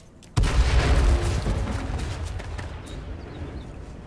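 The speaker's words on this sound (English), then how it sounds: "He threw a grenade." A grenade detonates nearby in the battle royale game King of the Kill, one sharp, loud boom that decays into a long rumbling tail.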